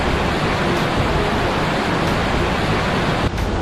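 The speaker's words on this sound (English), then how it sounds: "This waterfall is so beautiful." A Costa Rica waterfall roars steadily at its lower tier, a dense, unbroken wash of falling water heard close and loud throughout with no voices.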